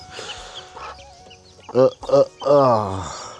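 A broody hen nearby gives a few drawn-out, throaty clucks, the last one longer and louder, after some quieter rustling.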